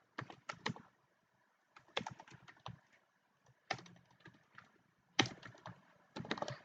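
Bursts of rapid keystrokes on a computer keyboard while code for a JavaScript Firebase Google sign-in is entered, clicking in quick clusters separated by short pauses, close and clear with no talk.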